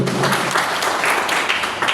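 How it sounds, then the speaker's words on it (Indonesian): A church congregation at a Sunday service claps together, a short burst of loud, fairly dense applause sustained evenly with no voices over it. "Berikan tepuk tangan yang kembali."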